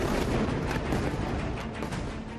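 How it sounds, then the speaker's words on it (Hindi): Rapid bombardment near the Indonesian hospital in Gaza, heavy booms and gunfire-like bursts merging into a dense, continuous roar that stays loud from start to finish with no break. "पहले गाजा में इंडोनेशियन हॉस्पिटल के पास इजराइल की बमबारी देखिए। देखिए कैसे ताबड़तोड़ बम बरस रहे हैं"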